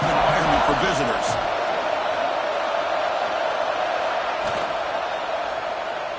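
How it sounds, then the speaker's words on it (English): Hostile home crowd roaring at a Georgia college football playoff game against San Jose State, a steady, dense wall of stadium noise throughout with a commentator's voice running over it. "Listen to the crowd energy here in the early going."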